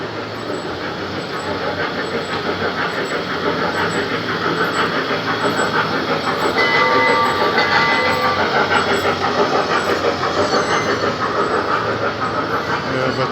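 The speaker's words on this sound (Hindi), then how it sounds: "हमारे करीब आ रही है ये ट्रेन।" A mini train runs through the Dubai Mall during the day, giving a steady mechanical rumble that holds for over ten seconds against a busy indoor crowd.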